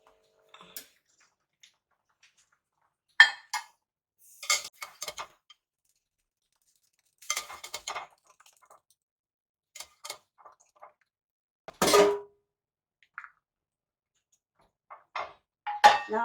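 Cooked pasta is lifted from a pot in a home kitchen, with sporadic clanks and clatters of pots, lids and utensils separated by silences, some knocks loud and near.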